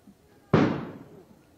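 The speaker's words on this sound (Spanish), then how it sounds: "Se produjo una explosión adentro." An explosion goes off inside a bunker during a police raid, a single sharp muffled boom heard from some distance that decays over about a second.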